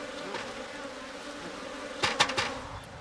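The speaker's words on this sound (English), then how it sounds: "colonies of bees now work for us." Honey bees buzz in a steady drone near a hive, with a couple of louder passes as individual bees fly close by.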